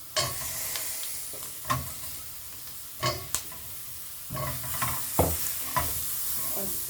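Potatoes stirred into a pot of spiced mutton pilau rice, giving a steady low sizzle and frying hiss broken by several distinct scraping and clattering stirs, close by with no talk.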